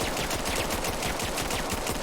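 Pistol shots in the VR tactical shooter Vail VR fire in rapid succession, a steady, close stream of sharp cracks over about two seconds, with no talking.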